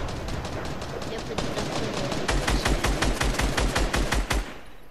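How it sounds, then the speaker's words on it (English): Rapid automatic gunfire in a video game crackles in fast, evenly spaced bursts, growing louder and denser toward the end before cutting off abruptly. "shoot them while they're distracted."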